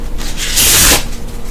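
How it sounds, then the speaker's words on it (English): Quick riffle of playing cards being shuffled, a brief close-up flutter and snap lasting under a second, no voices. "I'm actually going to shuffle them together."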